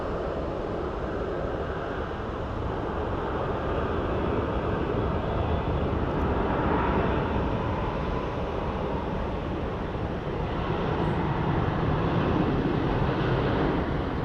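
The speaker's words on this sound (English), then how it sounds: "the first plane we're going to watch take off is a Southwest Airlines 737 that is headed to Palm Springs" A Southwest Airlines Boeing 737 takes off at Phoenix Sky Harbor International Airport, a loud, sustained broadband jet roar holding steady throughout.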